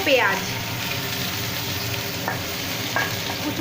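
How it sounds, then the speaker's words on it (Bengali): Chopped onions fry in a pan of oil tempered with cardamom, cinnamon, cloves and bay leaf, giving a continuous close sizzle with scraping stirring sounds throughout. "পেঁয়াজ দিয়ে ভালো করে কিন্তু লাল লাল করে ভেজে নিতে হবে"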